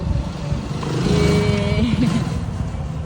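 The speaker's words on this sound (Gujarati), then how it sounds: "બાઈક છે બાઈક." A motorcycle engine runs nearby, its drone swelling to a steady, moderately loud level over a few seconds with faint mechanical clatter.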